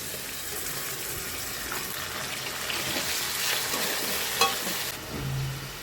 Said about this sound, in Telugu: ఉల్లిపాయలు కొంచెం ఫ్రై అయిన తర్వాత అప్పుడు టమాటా వేస్తాను.